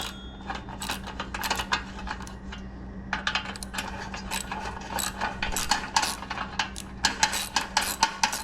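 A hand ratchet tightening parts on a mini bike build, quick metallic clicking strokes in uneven bursts with light clinks of tools and metal nearby, no voices.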